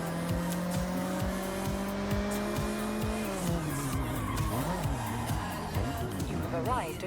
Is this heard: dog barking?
no